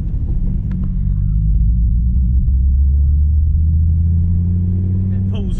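A Dodge Viper SRT VX's naturally aspirated V10 rumbles deep and loud from inside the car, a heavy low drone that swells steadily as it pulls, with a brief rise near the end and voices talking over it.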